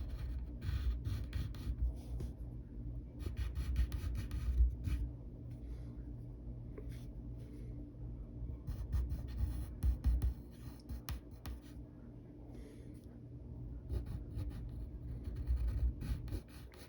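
Pencil rasping and scratching across paper while drawing a cartoon character, steady continuous strokes with brief pauses, close and fairly quiet, no talking.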